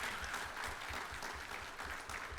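An audience applauding AEW wrestlers at a Terrificon 2023 convention panel, a steady, moderately distant round of clapping from a crowd with no voices standing out.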